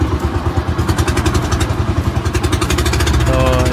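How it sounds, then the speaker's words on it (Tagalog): Loud boat motor engine thumps in a fast, steady rhythm throughout, close up and continuous, on a boat ride among the 100 Islands in Alaminos, Pangasinan. "grabe, napakalakas ng ingay nung motor ng bangka"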